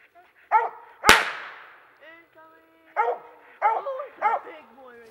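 Hunting hounds, used for running coyotes and bobcats, bark and yip in several sharp bursts, with one loud close bark and others spaced through the clip.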